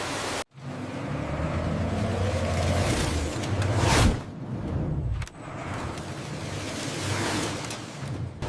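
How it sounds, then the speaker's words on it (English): A centrifugal separator in a water spinach processing plant spins up with a loud, steady rushing whoosh that swells and dips, with a couple of brief surges and no talking. "The mighty separator begins its rapid rotation, harnessing centrifugal force for meticulous separation."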